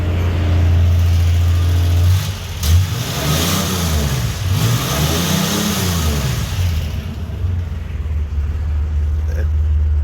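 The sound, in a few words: 1978 Reliant Scimitar GTE Essex 3.0 V6 engine revving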